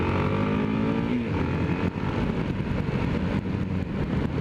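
Yamaha XT660R single-cylinder motorcycle chugging at low revs, around 2,500 to 3,000 RPM in a high gear, gives a steady close rumble with a faint rattle and no voices.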